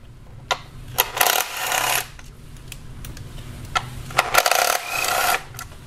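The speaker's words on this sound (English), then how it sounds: "Just remove the bolt." A 10 mm socket on a ratchet works an ignition coil bolt loose on a Kia Optima engine, with bursts of rapid clicking ratchet ticks and a few metallic taps, close and alone.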